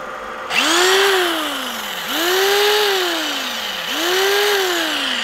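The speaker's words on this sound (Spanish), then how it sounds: "Vamos a probar una agujereadora." An electric drill running off a three-phase generator starts up three times; each time the motor whines up in pitch, then sags and slows as it loads the generator, loud and close.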